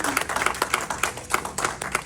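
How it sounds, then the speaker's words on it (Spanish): An audience at a church congress claps, with sharp, distinct hand claps in a brisk, slightly uneven rhythm, close and fairly loud with a light crowd ambience. "Vamos a darle un gran aplauso."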